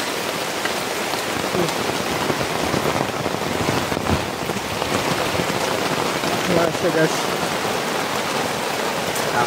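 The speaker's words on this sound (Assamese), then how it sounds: "গাইছ বৰষুণ দি আছে হাবিৰ মাজত মই বহি আছোঁ" Steady, dense rainfall patters down on forest foliage and ground at night, a continuous hiss of drops with no break, close and fairly loud.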